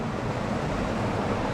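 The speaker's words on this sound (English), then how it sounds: "the river, the waterfall just next to my feet" Rushing river water from a waterfall right beside the listener's feet, a steady, full broadband roar with no breaks, loud and close, with no voices.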